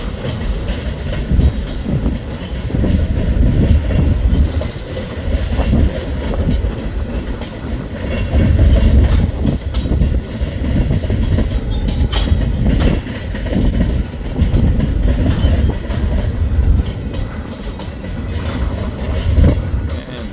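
A westbound Rock Island line freight train running Des Moines to Bailey rolls past close by, a steady loud rumble of railcars with rhythmic wheel clatter and occasional flange squeal throughout.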